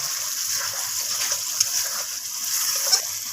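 Water swished from a spice bowl splashes into a pan of pointed gourd curry in a home kitchen, a brief close wet splatter and trickle lasting a few seconds.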